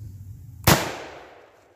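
Single sharp crack of an 8mm rifle cartridge firing, one loud close shot after a quiet lead-in, its echo trailing off over the following second.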